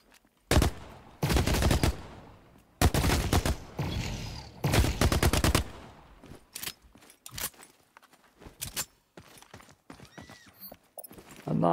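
Gorgon sniper rifle fire in The Cycle Frontier, loud close bursts of shots in separate clusters with short gaps between them, thinning into scattered lighter cracks later on.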